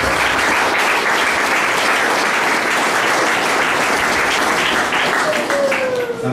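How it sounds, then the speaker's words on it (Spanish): Loud, sustained audience applause at a staff-of-office handover ceremony in Xeatzán Bajo, dense clapping continuing evenly for several seconds without speech. "Un aplauso, por favor."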